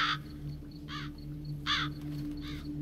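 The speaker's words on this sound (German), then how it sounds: "Raben. Oder Krähen?" Ravens or crows caw in The Witcher 3: Blood and Wine, four harsh calls spaced evenly about every three-quarters of a second, moderately near, over a low steady hum with no talking.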